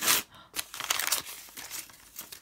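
Plastic package being opened during an unboxing of sneakers, giving sharp close crinkles and tearing rustles in irregular bursts.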